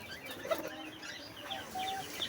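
A male Sirazi pigeon coos softly at a bird farm, faint, low and muffled against light background noise.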